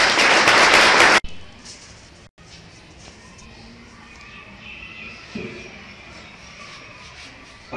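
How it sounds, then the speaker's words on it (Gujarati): Audience applause welcoming guests at a college event on World Mother Language Day, a loud dense burst of clapping that stops abruptly after about a second, followed by a quiet room and a voice speaking. "બધા મહેમાનશ્રીઓનો તાળીઓ પાડીને આપણે સ્વાગત કરીએ."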